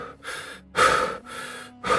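Heavy panting of a man out of breath, three loud broadband breath bursts in a steady rhythm, close and alone with no talk.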